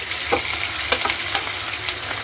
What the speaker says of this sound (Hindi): दूसरे बैच के मछली भी हम इसी तरीके से फ्राई करेंगे।